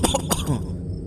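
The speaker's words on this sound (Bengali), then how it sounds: "হঠাৎ ঘরের কোণ থেকে একটা কাশির শব্দ।" One short, close cough from a sick child in a Bengali village cartoon, a single throaty burst that trails off into quiet.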